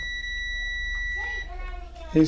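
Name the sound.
multimeter continuity beep testing laptop capacitors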